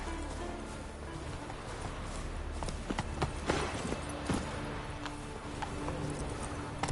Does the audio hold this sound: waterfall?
no